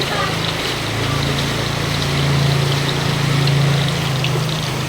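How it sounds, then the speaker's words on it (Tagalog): Heavy rain pours down onto floodwater that is rising into a home and has reached the first stair step, making a dense, loud, constant rushing wash. "ang lakas ng ulan dito. Baha na naman."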